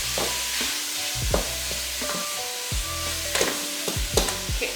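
Beef searing in a preheated pan for homemade chili, a loud steady sizzle broken by several scraping stirs and clanks of the utensil against the pan, up close.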